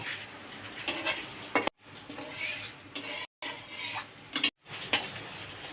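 Three dry red chillies are frying in hot oil in a kadai, giving a soft, hissing sizzle with light utensil clinks. The sound is broken by brief silent gaps.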